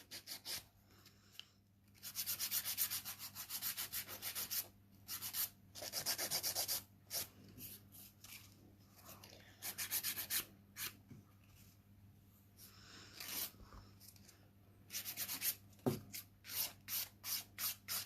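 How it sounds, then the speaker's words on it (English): Gel nail enhancement of Acrygel being filed, with repeated bursts of close, dry rasping strokes separated by short pauses, steady rhythm with no talking. "The Acrygel from SBD, very easy to file."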